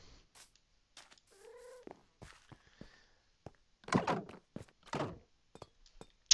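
A pet cat in Minecraft Bedrock gives a short, clear meow with rising and falling harmonics, followed by scattered quiet clicks and thumps of game activity.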